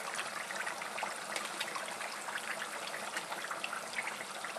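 French fries and jalapeño rings frying together in hot oil make a steady, dense, hissing crackle that stays even and fairly close throughout, with no voices.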